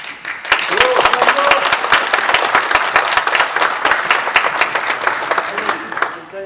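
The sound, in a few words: assembly applauding to elect an elder as presbytery moderator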